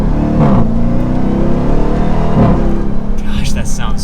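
A black 2023 Dodge Durango SRT Hellcat AWD rumbles with a deep, loud exhaust drone, swelling in two brief revs before settling back to a steady throb.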